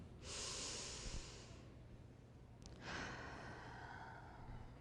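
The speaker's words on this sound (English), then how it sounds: "Let's just take several deep breaths, inhaling, exhaling slowly" Close, soft breathing: one long slow inhale followed after a pause by a long, gradually fading exhale, calm and unhurried in a quiet room.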